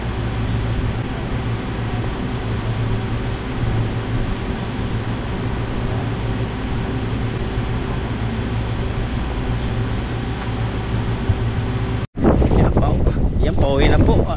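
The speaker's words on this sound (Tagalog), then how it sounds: "medyo malakas ng hangin dito" Strong typhoon wind roars and buffets the microphone steadily for a long stretch, then cuts off abruptly into a brief burst of louder, closer noise.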